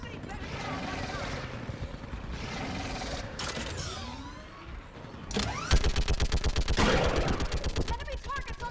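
Weapon fire in Mass Effect Legendary Edition: scattered shots and mechanical noise under voices give way to a loud, rapid, evenly spaced burst of automatic gunfire, close and dominant.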